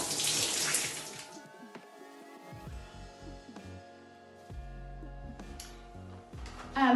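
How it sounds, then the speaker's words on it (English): Water from a tap runs steadily while bathroom surfaces and used cleaning products are rinsed off, a continuous close splashing stream with shifting tone and a brief louder gush at the end, no talking. "And then I'm going to rinse off all my products I've used."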